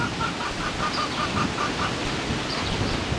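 Chickens on a farm clucking in a steady, busy background with repeated short calls, moderately loud amid general outdoor noise.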